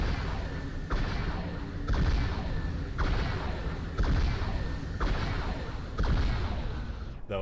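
Heavy booming shots from the Space Phantom bombardment weapon in a Halo 3 mod, about seven loud blasts at a steady one-second rhythm over a constant rumbling roar.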